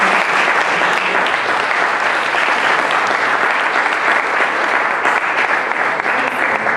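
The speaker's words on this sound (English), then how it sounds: "give a good round of applause to" An audience at a panel discussion on risk gives sustained, even applause, a loud continuous wash of many hands clapping with no break.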